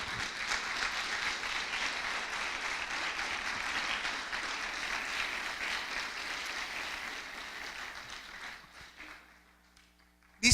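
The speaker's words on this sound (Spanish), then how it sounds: "¿Le puedes dar un fuerte aplauso al Señor?" A church congregation applauds loudly and steadily for about nine seconds of dense, sustained clapping, which then fades out before a sudden short burst of sound at the very end.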